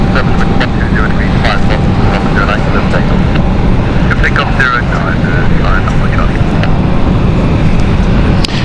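An airliner on the Dublin flight takes off from London City Airport with a loud, sustained jet roar dominating the scene, while a person talks over it and sharp clicks and chirps cut through intermittently.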